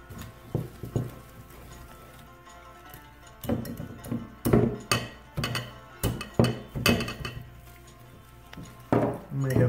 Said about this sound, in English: Oh, it's getting harder to stir.